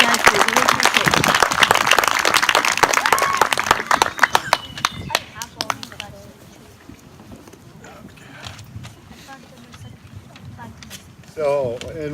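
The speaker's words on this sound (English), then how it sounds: "give our city forestry and state forestry a round of applause" Audience applause at an outdoor Arbor Day celebration for city and state forestry crews, loud dense clapping for about five seconds that thins into scattered claps and fades, followed by quieter room sound and a voice starting to speak.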